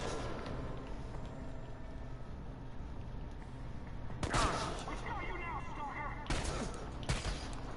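Gunshots in the video game Chernobylite, a couple of loud bursts of fire standing out over a low ambient game drone, with brief spacing between them.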